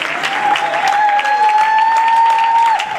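A church congregation claps loudly and steadily throughout, a dense continuous wash of applause with a sustained sung or shouted tone over it.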